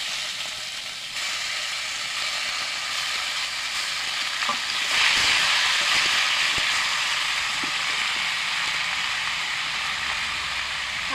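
Taro leaves hit a hot pan and sizzle steadily and loudly, with the hiss swelling midway as they settle in and stir-scrapes breaking through now and then; no voices.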